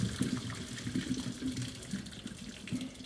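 Water draining off poached scrambled egg in a kitchen, a steady low trickle and splash from close by, running throughout without voices.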